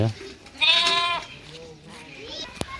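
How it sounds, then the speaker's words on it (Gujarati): Goats of Maldhari herders in a Gujarati village give a loud, wavering bleat close by, then a fainter second call, while people talk over the animals. "હાલ બકરા આવી ગયા"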